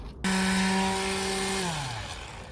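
A power sander whirs loudly and close by on a First Order armour chest plate, holding a steady whine before its motor winds down.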